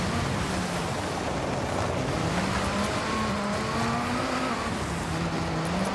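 A Chevrolet Silverado truck engine drones steadily while driving cross country in the video game Forza Horizon 6, a continuous mid-level hum with rising and falling pitch and a wash of tire and road noise.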